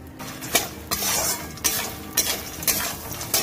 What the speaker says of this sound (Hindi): मैं मखाना इसमें डाल रही हूँ जो भून के रखती हूँ।